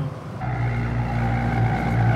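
Mercedes C63 AMG being drifted on a track with gravel at the edges: a loud, steady engine roar that settles into a sustained high-revving drone, heard from close by.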